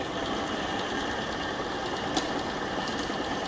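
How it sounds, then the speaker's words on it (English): A small engine idles steadily on a mechanical transmission demonstration rig, a constant mid-pitched hum with faint mechanical clatter and one brief tick near the end, no talking. "Now we may see that the engine is working."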